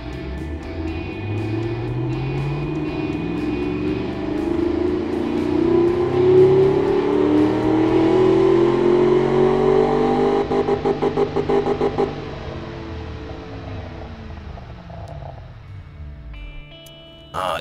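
A 10.8-liter engine in a video game revs steadily upward, the tone climbing and holding loud for several seconds, then a rapid clattering burst before it winds down and fades.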